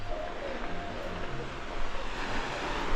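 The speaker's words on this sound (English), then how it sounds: "Greetings from St Lucia, Sugar Beach." Ocean waves at Sugar Beach, Saint Lucia, a soft continuous wash of surf with a gentle swell near the end and light wind noise, and no voices.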